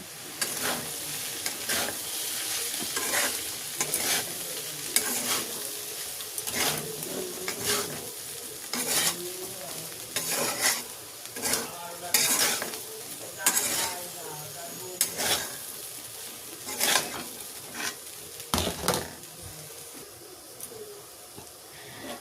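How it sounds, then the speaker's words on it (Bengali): Vegetables tossed with Maggi masala in a pan for chira pulao are stirred with repeated scraping clacks of a spoon against metal, over a steady soft sizzle that runs throughout. "এবার আমি সবজির সাথে খুব ভালো করে মিশিয়ে নেব।"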